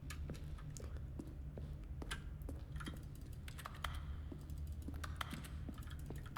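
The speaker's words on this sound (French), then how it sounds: "J'aime ça que ça fait des bruits de clavier quand je clique." Rapid keyboard-typing clicks sound as in-game feedback for mouse clicks in The Stanley Parable Ultra Deluxe, a dense irregular patter of light taps over a quiet low hum.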